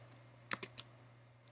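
A few quick, light keystrokes on a Mac computer keyboard while entering a terminal command, crisp clicks in a short burst then one more after a pause, faint over a low steady hum.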